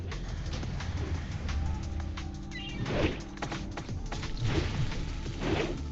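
Owls hooting in a World of Warcraft raid in Karazhan, soft low cooing calls repeating over a busy game soundscape of ambient hum and scattered effects.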